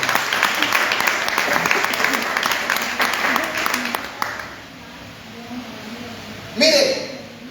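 Church audience applauding during a Spanish-language sermon about family, a dense burst of clapping that fades out after about four seconds, followed by quiet room tone and a brief faint noise near the end.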